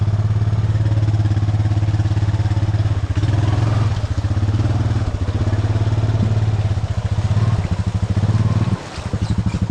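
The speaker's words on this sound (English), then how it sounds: "That's how powerful my four-wheeler is." A four-wheeler ATV running in a creek at night, its engine droning loud and close with a steady rumbling chug that dips and surges as it works through the water, then briefly drops off near the end.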